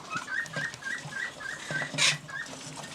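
Dilute rosella parrots, parent-raised, give a run of short repeated whistling chirps at a quick even rhythm, fairly close and moderately loud, with one brief rustling burst in the middle.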